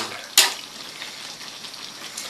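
Winged beans (sigarilyas) simmer in coconut milk in a Bicol-style ginataang dish, a steady soft bubbling sizzle with one brief louder clatter near the start and no talk.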